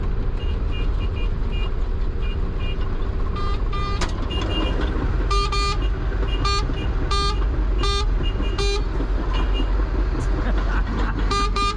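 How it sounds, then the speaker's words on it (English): A vehicle horn toots in repeated short bursts, some in quick clusters, over a steady rumble of engines and traffic during power line tree work, with no talking. "Did you hear him honking?"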